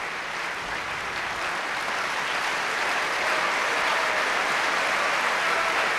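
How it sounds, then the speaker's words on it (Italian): Warm audience applause at an opera performance of Bellini's I Puritani for bass Robert Lloyd, a steady dense wash of clapping that holds evenly and swells slightly toward the end. "You can judge, I suppose, by the warmth of that applause, that that's Robert Lloyd, who sang Giorgio"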